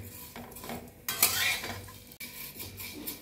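Thin vermicelli being stirred and roasted dry in a pan until reddish, with scraping, clinking utensil strokes that come in uneven bursts, loudest in the middle, heard close and alone.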